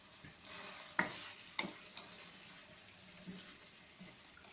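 A Pakistani potato curry frying in a pan after chili is added, a steady soft sizzle with a few scraping stirs and clinks of the spoon, close and quiet with no talking.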